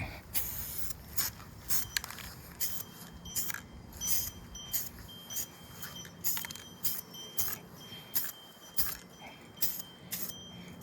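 Short repeated bursts of Rust-Oleum brown spray paint hiss from a can, about a dozen quick sprays in an uneven rhythm with small clicks and rattles between them, close and fairly quiet.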